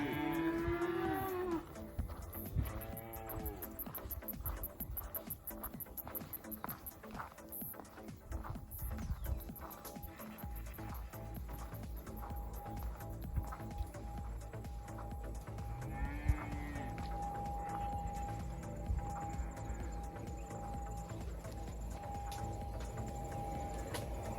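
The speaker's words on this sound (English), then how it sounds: "Some curious cows." Several cattle lowing at a fence in rural farmland, with repeated drawn-out moos from near and farther animals over steady outdoor background noise, no talking.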